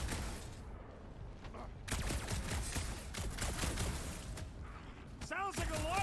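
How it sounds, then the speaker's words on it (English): Rapid bursts of gunfire and mechanical clanking in the Marvel's Guardians of the Galaxy video game during a fight with a giant robot, dense and loud, with voices talking over the clatter. "Sounds like a lot of flark and gunfire!"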